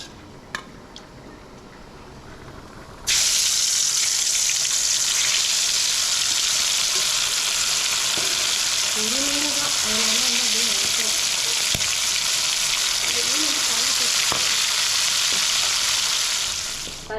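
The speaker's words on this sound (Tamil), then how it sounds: "மீன் வறுக்கிறதுக்கு எண்ணெய் ஊற்றிருக்கேன்" Fish dropped into hot oil for frying, a sudden loud hiss after a few quiet seconds that settles into a steady, close, dense sizzle with faint popping, lasting without pause to the end.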